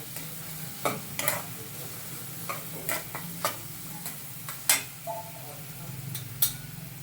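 Peanuts stir-fried in a pan for spicy vermicelli make a soft sizzle under a series of distinct spatula clicks and scrapes against metal, spaced irregularly and fairly close, with faint voice murmur in the background.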